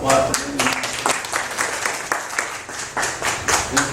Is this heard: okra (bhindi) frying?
no